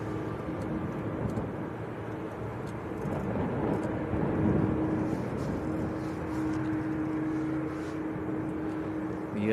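A Qatar Airways Airbus A350-1000 taxis out at Manchester Airport, its engines a steady mid-distance rumble with a sustained low whine that swells slightly partway through. Nobody speaks.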